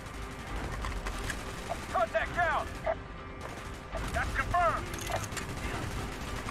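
A gun fires in the video game Call of Duty: Black Ops, Mission 3. A few short bursts of shots and mechanical clatter rise out of a busy game soundscape, with a brief quiet gap between them.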